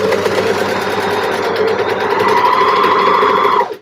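A sewing machine stitches T-shirt seams in one steady, rapid mechanical whirr, loud and close, running for several seconds before stopping abruptly.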